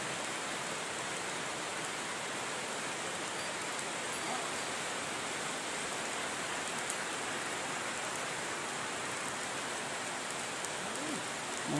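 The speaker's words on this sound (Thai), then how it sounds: "ฝนนะคะฝนตก" Steady rain falls at a home where a baby elephant is kept, a dense, even hiss of drops on surfaces that continues unbroken throughout at moderate loudness.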